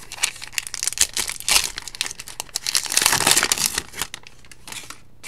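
Paper wrappers from 2021 Topps Heritage trading card packs crinkle and rustle close up in quick bursts, with a louder crumpling stretch in the middle before tapering off, and no voices.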